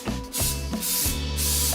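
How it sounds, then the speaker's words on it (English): Three short hissing sprays of cooking spray onto a muffin pan, close up, each a quick burst with small gaps between. "You can't forget to spray the muffin pan."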